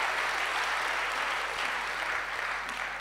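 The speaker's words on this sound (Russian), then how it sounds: "Let's give the Lord another big hand. Воздадим Господу еще одни аплодисменты." A church congregation at a Sunday service claps steadily in a broad, even wash of applause that fills the room from start to finish, with no voices on top.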